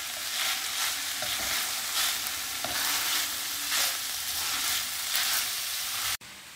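Minced meat and plenty of onions sizzle steadily in a pan, with repeated scraping strokes of a stirring spoon roughly every second, close and fairly loud, before an abrupt cut near the end.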